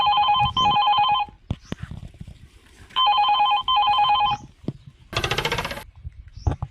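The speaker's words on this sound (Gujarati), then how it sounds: "અરે કોનો ફોન આવ્યો અત્યારમાં?" A telephone rings loudly in two bursts of electronic trills, separated by soft clatter, then a brief metallic rattle follows.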